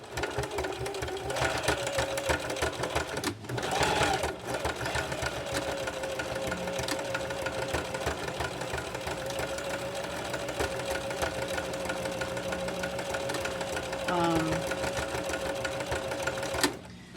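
A sewing machine stitching back and forth on purse straps runs as a steady, close mechanical whir for most of the stretch, with a couple of brief pauses and clunks as the direction changes.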